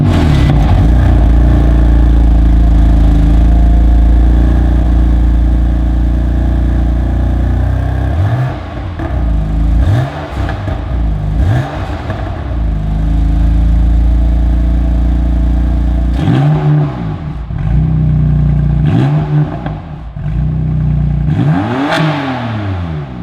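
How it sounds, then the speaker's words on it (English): A BMW M3 30 Jahre Edition with an M Performance exhaust revs loudly and close by, first in normal mode and then in sport mode, with repeated rising and falling blips and a steady idle rumble between them. "Let's see how it sounds, first in normal and then sport."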